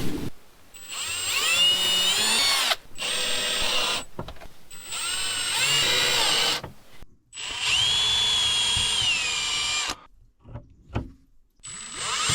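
A power drill drives screws during projects at a remote cabin, with four or five whining bursts separated by short pauses. Each burst rises and strains as a screw seats, and a few faint knocks follow at the end. Close and loud, with no talk.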